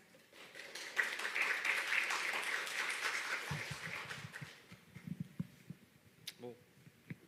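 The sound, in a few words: audience applause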